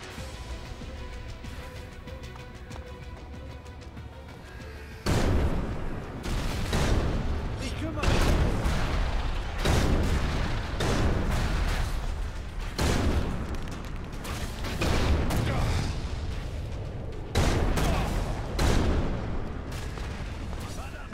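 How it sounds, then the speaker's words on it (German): Gunfire aimed at the player in the action RPG Elex: after a quieter stretch, a heavy, loud barrage of repeated booming shots breaks out and keeps coming in irregular bursts, with a voice talking in between. "Schießen alle auf mich."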